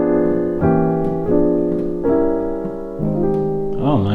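A gospel chord progression built on diminished chords, sustained rich chords changing every half second or so, close and loud with no talk, ending on a bending, wavering tone.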